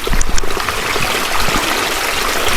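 Strong water gushing on a farm, a loud, steady rushing flow heard up close with no talk over it.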